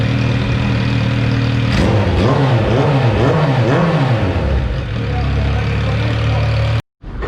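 A Kawasaki H2 motorcycle, freshly ECU-flashed after a recall, cranks and fires up, revs in wavering bursts, then settles into a loud steady idle before cutting briefly near the end.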